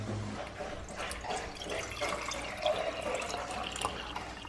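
Tap water runs steadily into a cup at close range, a continuous soft splashing stream with faint drips and no talking.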